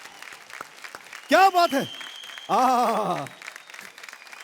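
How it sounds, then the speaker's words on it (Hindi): Audience applause on the stage of a folk singing reality show, a steady crowd clatter running underneath as someone speaks loudly over it in two bursts. "लेकिन जोरदार तालियां हो जाए एक बार फिर"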